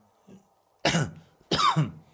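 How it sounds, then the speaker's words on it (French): Two harsh, close coughs, each a short raspy burst, separated by a brief pause in an otherwise quiet military hospital at midnight. "Ça me fait tousser"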